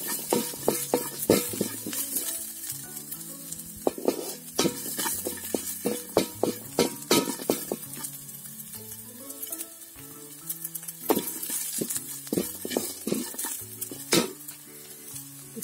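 Ginger, onion and green chilies fry in a pan for Ondelaga (brahmi) leaf chutney, giving a busy sizzle with frequent quick clinks and scrapes of a spoon against the pan and soft tonal music underneath.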